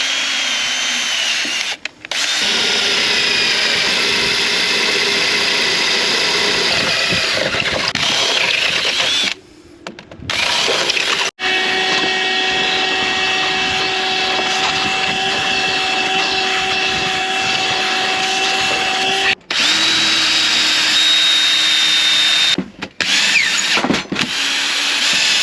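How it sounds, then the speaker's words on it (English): A power drill with a drill bit clearing gummed-up epoxy out of holes, a loud sustained whine running in long stretches with a few brief stops and restarts, close and without talk. "so I'm going to clean them out with a drill bit."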